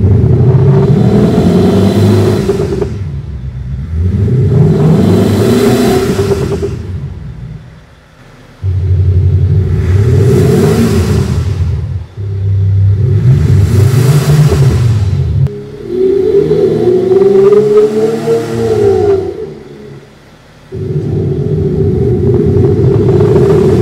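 Simulated engine sound played through the speaker system of a BMW X6 F16, loud and close, rising and falling in repeated revving swells with brief dips between bursts, no talk over it.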